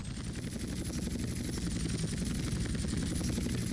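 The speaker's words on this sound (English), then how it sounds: "Helicopter takeoff." A helicopter in the video game Grand Theft Auto: San Andreas lifts off, its rotor thumping in a fast, steady beat under a continuous engine whine, loud and constant throughout with no talking.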